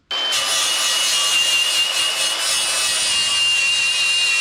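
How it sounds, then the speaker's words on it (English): A grinder runs steadily inside a Honda CRX engine bay, a loud, continuous, harsh whir that starts abruptly and holds for several seconds with no speech. "Let's grind that a little bit."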